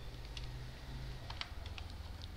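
Quiet typing on a computer keyboard: a scattered run of light key clicks over a low steady hum, with no talking.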